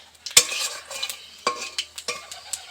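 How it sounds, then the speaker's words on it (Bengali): Panch phoron spices frying lightly in a little oil in a pan, close and quiet, marked by a string of sharp clinks and scrapes from a stirring utensil over a faint sizzle, with no talking. "এক চামচ পাঁচফোড়ন দিয়ে দেবো, হালকা একটু ভেজে নেব পাঁচফোড়নটাকে।"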